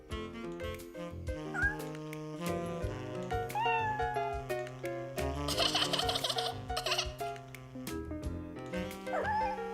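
A kitten meows in several short, high mews while it plays with a shoelace, and a bright cartoon music score runs throughout.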